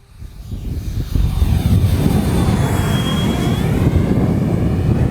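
A radio-controlled Heinkel He-111 model airplane with a 1750mm wingspan drones steadily overhead, a buzzing whine over low wind rumble that swells and then holds.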